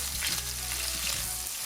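Skinless chicken drumsticks brown in a hot pan with a steady, close sizzle and some stirring, no voices over it.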